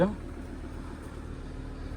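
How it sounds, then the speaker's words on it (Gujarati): A car engine idling while stationary after a morning cold start, warming up before a long road trip, gives a steady, low, even rumble that holds throughout, close and moderate in level. "આનો ગાડીનો રોર બી મસ્ત છે."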